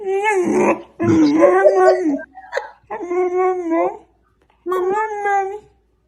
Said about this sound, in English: that wasn't us making that. It was a beautiful little puppy.